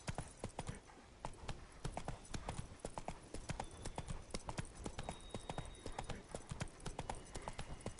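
A horse gallops at a steady pace in The Witcher video game, its rapid hoofbeats loud and continuous throughout, with no talking.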